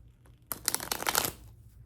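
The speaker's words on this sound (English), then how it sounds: "Let's get some more cards to clarify what we have here" A deck of tarot cards being shuffled up close: a quick burst of rapid papery riffling and flicking that lasts under a second, then fades into quiet room tone.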